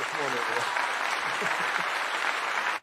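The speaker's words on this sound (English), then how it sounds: "That was someone ripping a Velcro on a mic." Velcro is ripped right next to a microphone, giving a loud, harsh continuous tearing crackle that lasts nearly three seconds before stopping sharply, with faint voices under it.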